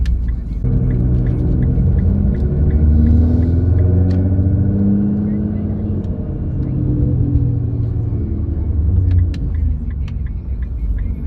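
A Nissan GT-R R35 driving on a Los Angeles road, heard from the passenger seat as a loud, steady engine rumble that rises and falls with throttle, with faint cabin clicks and no talk.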